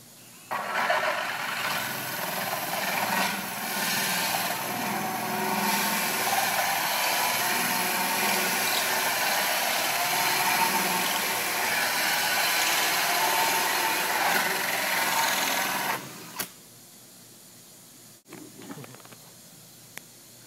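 A power drill fitted with a hole saw cuts a 3-inch hole after a pilot hole, a steady loud grinding whir sustained for about fifteen seconds before stopping abruptly, followed by faint handling noises.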